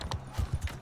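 Hooves of a horse in Mount & Blade II: Bannerlord clop in a quick uneven rhythm, fairly close and moderately loud.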